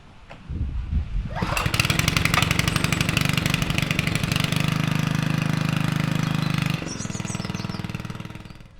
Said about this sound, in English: After a few tries, Paul still can't get the Westerman started